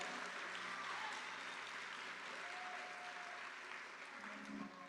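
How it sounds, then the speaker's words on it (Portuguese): A church congregation applauds steadily and densely at a worship service, a continuous wash of clapping that fades slightly toward the end, with faint voices mixed in. "A igreja aplauda o Senhor, tá bom?"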